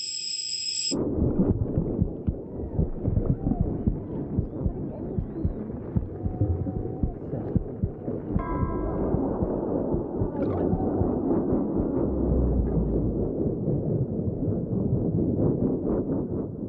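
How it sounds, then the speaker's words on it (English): Deep, muffled low rumbling and gurgling from a mother's body as heard inside the womb, continuing throughout, with soft throbbing pulses and a brief high tone at the very start. "the gurgles and rumbles made by her mother's body"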